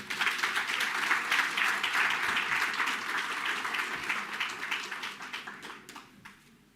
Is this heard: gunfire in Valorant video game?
no